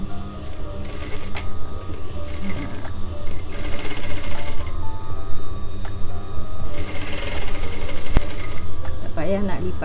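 A sewing machine stitches a pillowcase, a loud continuous whirring mechanical rattle close up, running steadily throughout while someone talks over it.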